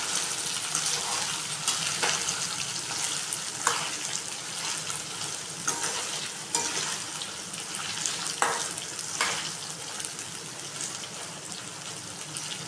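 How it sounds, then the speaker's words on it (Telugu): Chicken pieces fry in hot oil for chicken pickle, a dense, continuous crackling sizzle up close, punctuated by periodic scrapes and stirs of a spoon against the pan. "ముక్క కొంచెం ఇంకా ఎర్రగా వేగిన దాకా వేయించుకోవాలండి."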